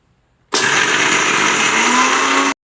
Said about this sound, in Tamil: அதையும் நல்லா ஃபைன் பவுடராக அரைச்சிட்டு வந்துடலாம்